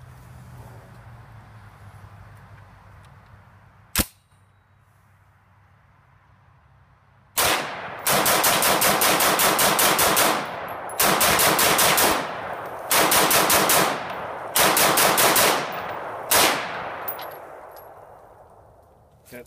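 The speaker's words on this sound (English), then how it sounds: "After 90 rounds of rapid fire, not uncomfortable at all without gloves." Bushmaster M17S bullpup rifle fired in rapid strings: after a single sharp shot, several loud sustained bursts of fast gunfire follow one another with short pauses between, close and dominant.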